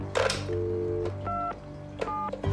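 A telephone keypad dials star 69 to trace a call, giving a few short, clear DTMF tones separated by pauses, with faint mechanical clicks and a low hum underneath.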